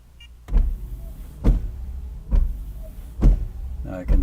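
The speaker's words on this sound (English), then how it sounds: "I'll do actuator test, and watch this, I can make the wipers go on and off" Windshield wipers on a Honda, driven by a scan tool actuator test, make four evenly spaced swipes about one second apart, each a close thump-and-swish, with a quiet voice between strokes.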